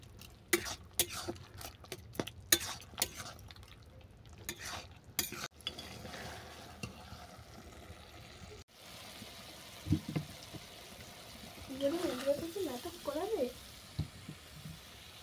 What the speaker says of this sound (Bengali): সরষে বাটা দিয়ে অল্প করে নেড়ে চেড়ে আমি এটাকে নামিয়ে নেব